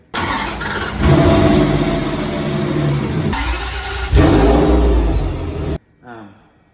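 A Ferrari V12 fitted in a Holden Torana cranks and fires on a push button, then runs loud and close with rising revs and a strong surge before cutting off abruptly, followed by a short faint trailing sound.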